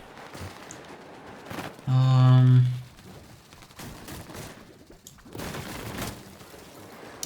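Video game gunfire in a competitive match: a single loud, sustained burst of shots rings out for under a second in the middle, standing well above a quieter background of ambient game noise.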